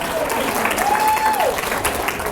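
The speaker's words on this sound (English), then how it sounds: "a round of applause for everything they're doing here" An audience claps in a steady burst of applause, with a faint voice briefly rising over the clapping.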